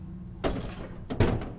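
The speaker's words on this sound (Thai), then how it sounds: "ไอเสียงตึ้งนี่คือเสียงประตูปิดใช่ไหม" Two dull door thuds from the horror game Another Night at Fredbear's, a soft one followed by a louder one about a second later, each with a short low rumble, close and alone with no talking.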